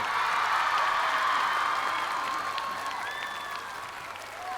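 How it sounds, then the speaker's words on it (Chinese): Loud applause from a large audience, steady and sustained, fading slightly toward the end. "掌声再次送给金 AD 209。"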